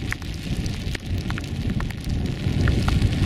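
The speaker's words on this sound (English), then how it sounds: "Oh, it's raining now." Steady rain falls during a wild camp on Pen y Fan in the Brecon Beacons in foul, windy weather: a close, continuous hiss with scattered sharper drop patters, growing slightly louder toward the end, with no voices.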